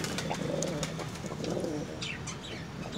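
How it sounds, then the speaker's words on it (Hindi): Red domestic pigeons, including a red male paired with a white female, coo steadily in a loft, their soft throaty calls overlapping with occasional chirps and a brief flutter of wings, with no talking. "आज हम आपको हमारे कुछ लाल कबूतर दिखाना चाहते हैं।"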